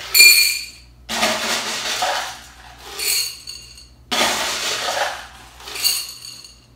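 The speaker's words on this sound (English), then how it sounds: "I have some pre-boiled and pre-soaked leca here. So I'm going to go ahead and I'm going to fill to where the drainage holes are." Pre-boiled, pre-soaked LECA clay pebbles pour into a plant container in several rattling, clattering bursts, close and fairly loud, separated by short pauses.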